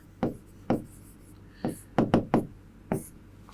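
A marker or chalk taps and strokes across a board during a Class 10 maths lesson on circles, a series of sharp, separate knocks, some spaced out and some in quick clusters, fairly close and with no talking.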